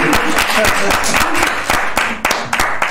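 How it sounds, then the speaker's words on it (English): An audience at an autism music talk breaking into a round of applause, dense and steady clapping close by throughout with a few voices mixed in. "Give them a round of applause."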